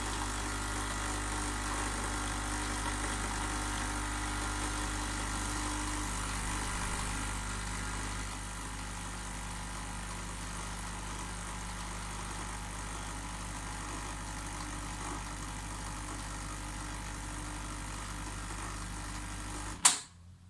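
A Nescafé Dolce Gusto coffee machine pumping milk through for a cappuccino: a steady, faint mechanical pump hum with a slight shift partway, ending with a brief click as it stops.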